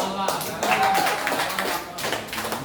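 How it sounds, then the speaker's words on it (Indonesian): A school class applauding, with scattered clapping mixed under a teacher's speaking voice, moderately close and uneven in rhythm. "Beri aplaus"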